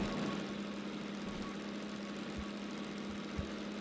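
A locomotive engine runs light in the Derail Valley train game, a steady low rumble with a mid-range drone, continuous and fairly close, with a couple of brief low thumps near the end and no talk.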